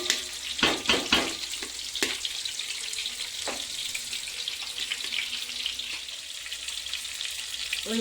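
Potatoes fry in hot mustard oil with bay leaves, crushed cardamom, cinnamon, cloves and a little sugar, giving a steady sizzling hiss after a few sharp clanks of stirring at the start.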